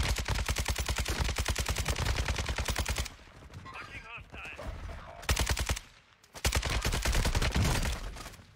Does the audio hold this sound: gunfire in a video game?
yes